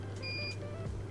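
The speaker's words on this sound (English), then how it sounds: "the machine beeps." A Ruida DSP laser engraver emits a few short electronic beeps, held tones that come one after another over a steady low machine hum.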